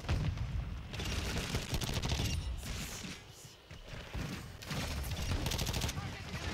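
Shotgun fire in the Modern Warfare 2 video game: loud, booming gunshot bursts in quick succession over game noise, with a short lull in the middle before the shooting resumes.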